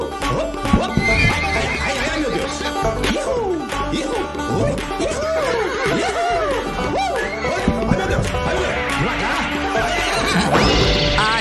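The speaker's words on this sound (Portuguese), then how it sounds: "Ai, ai, ai, mas que cavalo violento." A violent horse neighs and whinnies repeatedly and loudly, with hoof clip-clops, crashes and a busy, chaotic background.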